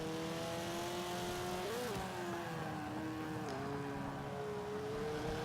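A 2005 Subaru WRX in Forza 5 holds a steady engine drone, then its pitch dips and climbs again at two gear shifts, alone without voices.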